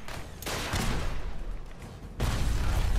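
Fallout 4 combat gunfire: dense, continuous bursts of rapid shots and booming impacts, loud and sustained over a few seconds with a brief dip in the middle.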